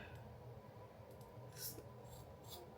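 Scissors snip through the hair of a thick, pre-styled finger-coil curly wig to cut shorter layers, a few faint close crisp cuts and rustles in a quiet room.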